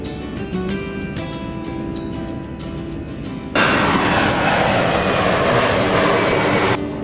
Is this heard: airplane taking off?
yes